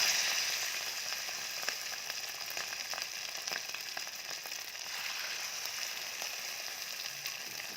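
Chicken pieces for chicken Manchurian frying in smoking-hot oil, a dense, even crackling sizzle that holds steady throughout, moderately close and with no voices.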